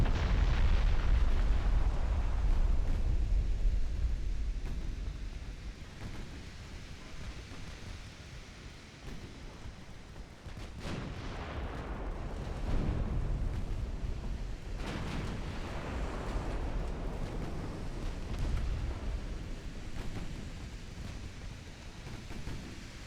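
Heavy 12-inch naval guns fire and shells strike in the Ultimate Admiral Dreadnoughts naval game, with French tumblehome warships of 1893. A loud rumbling boom fades, then further muffled blasts and impacts roll on continuously.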